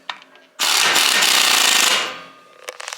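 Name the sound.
impact wrench tightening lug nuts on GMC Denali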